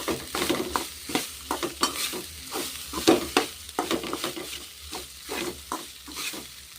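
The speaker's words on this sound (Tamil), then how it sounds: "இப்போ நம்ம வந்து சாதத்தை எல்லாத்தையுமே கிளறி விட்டுருவோம்" Coconut rice is stirred in a frying pan, and a spoon scrapes and turns it in repeated uneven strokes over a soft background sizzle, close and fairly loud.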